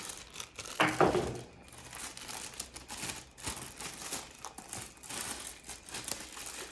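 Plastic protective bag around a new HP 15S-FQ4015NT laptop crinkling as it is handled and unwrapped, a brief burst of crackling followed by softer rustling.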